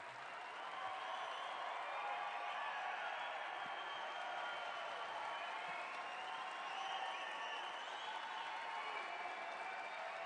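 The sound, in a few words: audience applause at a political summit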